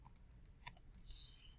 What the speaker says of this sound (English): Then I'm going to type this into my calculator, 90 times 68,